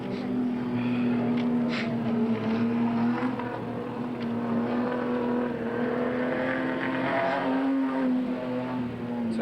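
Race cars lapping the Redline Raceway track in 1993 make a continuous, steady engine drone, held at an even loudness with no talk over it.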